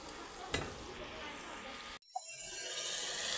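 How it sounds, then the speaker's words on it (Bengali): Spice paste sizzles in a hot pan while being stirred, a steady close frying hiss with a brief scrape, a short break, then the sizzle returning stronger. "তাই আগে মশলাটা ভালো করে কষিয়ে নিই"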